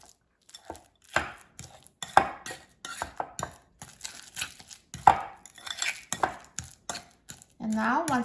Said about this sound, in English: just mash the banana with a fork